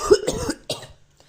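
An ailing father coughs in a few harsh, close bursts over the first second, then a softer trailing cough before falling quiet.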